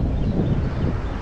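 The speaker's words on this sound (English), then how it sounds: "Wind is blowing right now" Wind buffeting a microphone outdoors at a fishing spot, a steady low rumbling roar with no breaks, close and fairly loud, with no talk.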